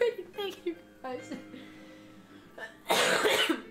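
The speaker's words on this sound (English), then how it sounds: "you can still hear that my cough is still around." A person with a lingering cough clears their throat and coughs in short bursts, ending in one loud, harsh, breathy cough up close.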